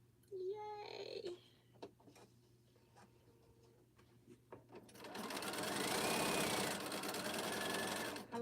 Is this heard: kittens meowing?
no